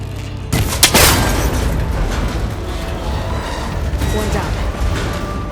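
A shot breaking a cable connector in Horizon Forbidden West: a sharp, loud impact crack early on, followed by a rumbling mechanical clatter that fades into steady background game ambience.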